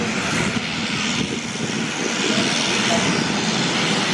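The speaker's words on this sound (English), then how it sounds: "that's one of the planes we'll be in" A small propeller plane used for skydiving in Florida, its engine giving a loud, steady drone that holds nearly unchanged from start to finish.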